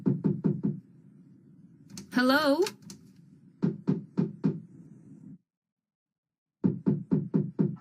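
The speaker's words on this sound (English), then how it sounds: "It's just banging at the door." Someone bangs on a door in heavy clustered bursts of several rapid knocks each, loud and close, with a voice calling out between the volleys and a quiet gap before the pounding resumes.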